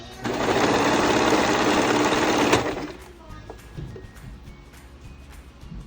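A serger sewing machine runs fast and loud for about two and a half seconds, finishing raw fabric edges for a sundress, then stops and leaves faint handling clicks.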